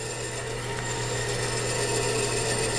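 A bandsaw whines steadily at close range, a constant dense hum and rasp of the blade cutting wood during a toy wooden body build, with no pauses.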